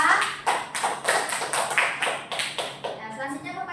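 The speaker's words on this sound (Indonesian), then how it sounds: "beri tepuk tangan dulu kepada Naila." A classroom of students claps for a girl after her presentation on magnets in a fifth-grade science lesson, with loud, uneven bursts of hand claps that fade out after a few seconds.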